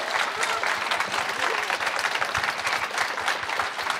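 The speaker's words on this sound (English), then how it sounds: "All right, let's give a round of applause." Audience applause at a book launch event, steady dense clapping from a crowd filling the room at even loudness throughout, with no voices standing out.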